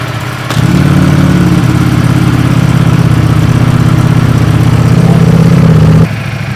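A Ducati Panigale V4 motorcycle engine starts up and idles with its exhaust valves open, a loud, deep, throbbing exhaust note, steady and close, then drops back to a quieter rumble.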